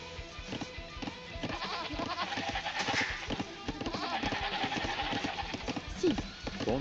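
Sheep bleat in an Age of Empires 1v1 match on Arabia, with short animal calls scattered through busy game sounds and a voice talking over them.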